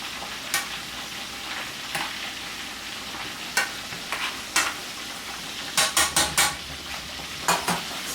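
Cube steak fries in a pan with a steady low sizzle, broken by several sharp clinks and scrapes of a fork or utensil against the cookware, clustering near the end.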